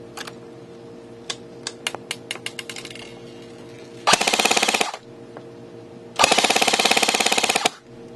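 ICS Galil AR airsoft rifle firing on full auto indoors: a few scattered single clicks, then two rapid buzzing bursts of about a second and a second and a half, loud and close, over a faint background hum.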